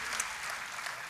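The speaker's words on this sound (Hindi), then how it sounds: "एक बार जोरदार तालियां हमारे बैकअप सिंगर्स के लिए बजा दीजिए" Audience applause for backup singers at a Sufi music concert, a steady, quiet wash of clapping that stays even for about a second, with no voices over it.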